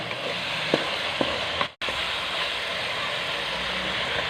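Previously fried carrots go into a hot pan for chicken vegetable spaghetti, giving a steady close sizzle of frying with a few brief stir clicks and one short cut of silence partway through.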